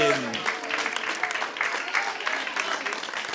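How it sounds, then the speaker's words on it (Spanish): A church congregation claps during a Spanish-language sermon, a short burst of fairly loud, dense applause after a brief voice at the start. "Que alguien le dé un aplauso"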